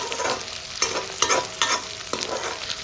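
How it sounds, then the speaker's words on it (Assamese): Fish fries in a pan on low gas, a steady sizzle broken by about five rhythmic stirring scrapes, close and clear without any talk. "গেছটো চিমত দি পেলাই ভাজি থাকিম এইখিনি নাইবা আমাৰ মাছখিনি জ্বলি যাব পাৰে"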